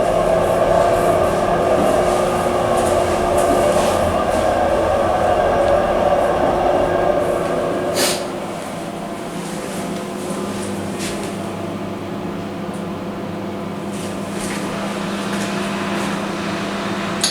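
Schindler HT hydraulic elevator inside a Macy's department store runs with a loud, steady mechanical hum and rumble, easing down to a quieter drone midway as the car travels slowly, with faint clicks.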